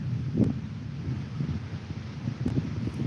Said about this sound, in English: I don't know how bad the wind is for you guys, but it's pretty strong here